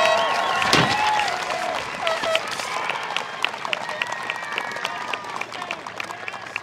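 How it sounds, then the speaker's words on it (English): Audience applause and cheering at a 2023 high school commencement, dense clapping with shouts and whistles at first, then settling into scattered, steady claps that gradually fade. "If we could please give them all a large round of applause"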